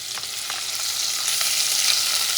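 Sofrito of onions, sweet red and green peppers, cilantro and oregano sautés in a pan for cod soup, a steady close sizzle with soft stirring scrapes that grows slightly louder.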